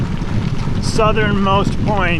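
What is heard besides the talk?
stiff wind blowing during gravel bike race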